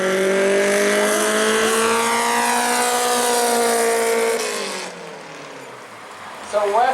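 Race cars, a Honda Civic among them, roar past at speed at New Smyrna short-track racing: a loud, sustained engine drone with rising harmonics that fades as the cars pull away, followed by a brief burst of voice.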